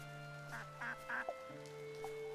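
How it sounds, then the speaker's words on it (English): Ducks in the video game Traveller's Rest let out a few short, nasal quacks in quick succession over a steady, soft musical background. "I hear you, duckies."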